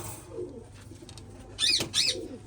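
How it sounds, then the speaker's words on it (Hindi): A Firozpuri pigeon coos softly a few times, low and rounded, followed by a brief bright rustle or flutter nearby. "फिरोजपुरी कबूतर है, फुल प्योरिटी में फिरोजपुरी कबूतर"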